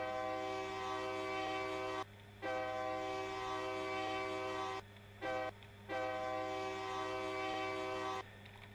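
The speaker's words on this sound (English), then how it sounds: "so you have a horn now" A train horn played through a sound emitter in Garry's Mod sounds as a steady, loud multi-tone blast in three long sustained stretches, with brief gaps between them and no talking.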